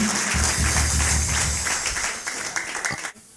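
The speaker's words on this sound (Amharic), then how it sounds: "አጨብጭቡ ለአምላካችን ለእግዚአብሔር።" A church congregation applauds during a prophetic worship service, a dense wash of clapping from many hands filling the room at close range, fading out near the end.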